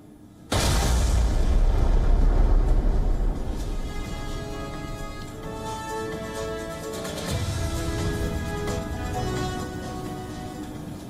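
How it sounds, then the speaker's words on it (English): Truck explosion on the Crimea road and rail bridge, with a fuel tanker nearby set alight: a sudden loud boom bursts in, then a dense, roaring rumble of fire and debris carries on at high level to the end. "a truck exploded on the bridge. It ignited some fuel tanker nearby."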